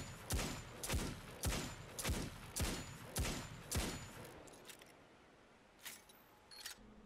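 The Agamid, a Dead Orbit hand cannon in Destiny 2, firing six sharp, loud shots in an even rhythm about half a second apart, followed by a pause and two fainter clicks.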